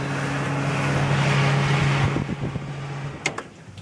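A Hobart FX 90 commercial dishwasher, tested after a pump replacement, runs its rinse cycle with a loud steady motor hum and rushing water that fades toward the end, followed by a couple of sharp clanks.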